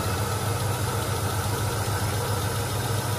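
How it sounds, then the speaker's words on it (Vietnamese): A 2009 seven-seat automatic car idles smoothly with a steady, even mid-pitched engine hum and a faint regular pulse, close and continuous without voices. "Máy nổ rất là êm."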